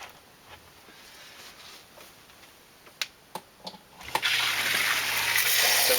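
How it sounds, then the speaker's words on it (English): A Zoeller M267 sump pump with battery backup switches on and pumps water out of the pit, a steady broad rushing wash starting partway through after a few sharp clicks and taps, loud and close. "So here the water level is being sucked down by the pump"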